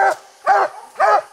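A coon hunting dog barks three times in an even rhythm, loud and close, with short quiet gaps between the barks.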